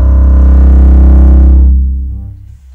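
A double bass with an extended fingerboard bows its lowest note, a low C, a very loud, deep sustained tone lasting under two seconds before fading away.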